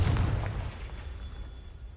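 A Confringo fire spell from Hogwarts Legacy detonates in a single loud, booming blast that fades out over about a second, with no talk heard.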